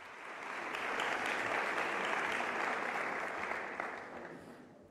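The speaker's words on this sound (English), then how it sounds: "A big round of applause to welcome her." Applause from a large summit audience welcoming a speaker, a broad wash of many hands clapping that swells, holds steady, then slowly fades, with no talking over it.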